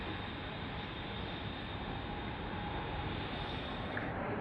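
A Mumbai local train at Chhatrapati Shivaji Maharaj Terminus station at night produces a continuous, loud, broadband rumble and roar that holds steady throughout without breaks.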